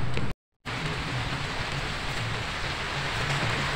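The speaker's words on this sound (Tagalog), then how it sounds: "Malakas pa yung ulan." Heavy rain falls outdoors during a fishing trip, a steady broadband hiss of downpour at moderate level, cut by a brief dropout near the start and continuing unbroken afterward without speech.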